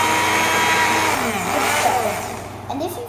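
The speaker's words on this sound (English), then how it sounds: "So you can put your blender cap on top, just like so, and you're just gonna blend it." A blender whirs loudly and steadily while blending tomatoes, garlic, ginger and chili for a paneer dish, the motor roaring throughout with a slight shift in pitch near the end.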